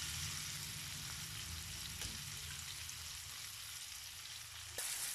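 King prawns frying in oil in a pan, a continuous close sizzle with fine crackle and a brief stirring clatter, steady and fairly quiet.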